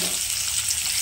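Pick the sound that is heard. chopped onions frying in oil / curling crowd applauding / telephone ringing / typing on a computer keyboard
chopped onions frying in oil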